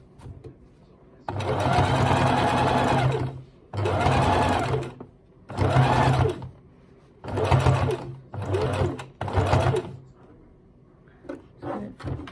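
A sewing machine top stitches a duffle coat in several close, loud bursts of rapid whirring separated by short pauses, with faint handling noises in the gaps.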